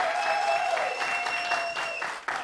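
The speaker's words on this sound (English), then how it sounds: "Clap for yourself." A studio audience applauds in a brief, even burst of clapping, with a sustained tone ringing underneath.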